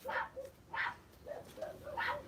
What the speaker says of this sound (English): it's the neighbor's little dog again.